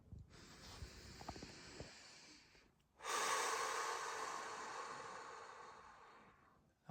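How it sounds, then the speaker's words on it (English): Deep meditative breathing, a slow inhale through the nose followed by a long, airy, breathy exhale, close and quiet with no talking. "take a deep breath if you're able to."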